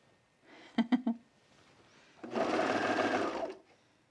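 Serger sewing machine stitching pajama pants fabric: a few quick whirring bursts, then a longer steady run of close, moderately loud stitching.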